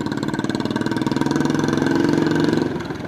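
A Kawasaki Ninja 300 motorcycle engine runs with no exhaust fitted, a close, loud, rapid pulsing idle that swells slightly before easing off.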